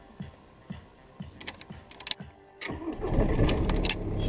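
A VW Golf 5 engine cranks with a rhythmic series of starter turns, then fires up and settles into a steady, louder idle at close range.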